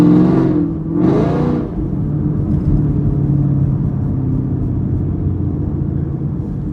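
A Chevrolet Camaro SS fitted with an LT2 engine pulls hard in sport mode, a loud steady engine roar and low rumble with an opening rise and dip in revs, heard from inside the car with no talk.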